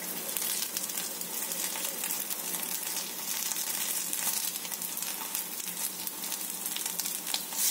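Sabudana cheese balls fry in a pan with a steady, bright sizzle that crackles evenly throughout, close up and with no talking.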